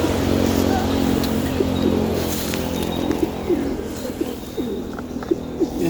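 Racing pigeons in a home loft coo in repeated soft, rhythmic phrases close by, layered over a low steady background hum, while someone speaks quietly among them.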